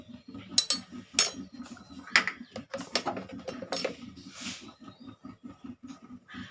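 A spoon stirs spices into tomato sauce in a bowl, giving repeated close metallic clinks and scrapes in an uneven rhythm over a faint steady pulsing background.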